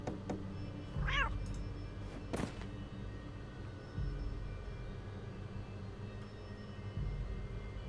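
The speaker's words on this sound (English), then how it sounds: "It's a ghost. A ghost cat." A ghost cat in the video game Hero-U: Rogue to Redemption gives a few short, faint meows over a low, steady ambient hum, with a couple of brief higher cries standing out.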